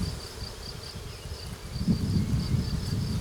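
Honeybees buzz in a steady, dense drone from an open hive, close and continuous, swelling slightly louder toward the end.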